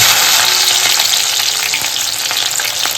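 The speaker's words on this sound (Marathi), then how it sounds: "फोडणीसाठी हा इकडे मिरची घालून घेतोय" Green chilies sizzle loudly in hot oil for a tempering, a dense, steady crackling hiss with some stirring scrapes, with no voices.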